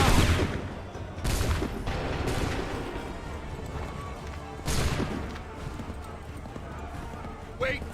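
Musket volley in Assassin's Creed 3, with broadband bursts near 1.3 s and 4.8 s over constant background noise, likely battlefield din with hoof-like clatter, and a sharp short crack at the end.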